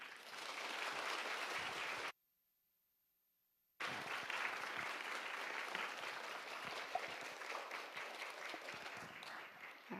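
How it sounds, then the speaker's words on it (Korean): Large church audience at a parents' prayer meeting gives a warm welcome as a guest professor comes up to speak: dense, steady clapping from many hands that cuts out briefly into silence, then resumes just as full. "우리 교수님 나오실 때 환영의 큰 박수로 맞아주시면"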